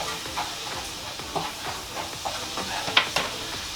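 Ingredients for a low-carb Big Mac salad are stirred by hand in a bowl, giving soft irregular scraping and clinking strokes with a few sharper taps, fairly quiet and without talk.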